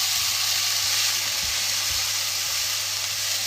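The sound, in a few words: spices sizzling as they cook in a pan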